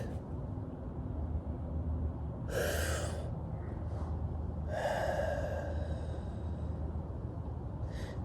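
Two long, deep breaths drawn in and let out slowly, near and fairly loud over a steady low hum, with a couple of shorter breathy sounds between and after them; nobody speaks.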